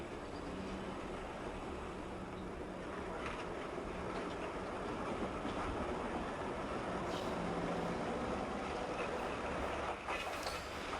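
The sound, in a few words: 1941 Indiana interurban electric train on rails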